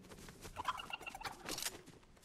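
Chicken clucking in the video game Sekiro, a faint, busy run of short squawks and clucks over a low noisy game background.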